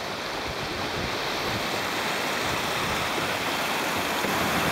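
The Potomac River's main flow rushes past rocks near the Maryland chute at about a 4.5-foot gauge level, a steady, loud, broadband watery roar with no talking.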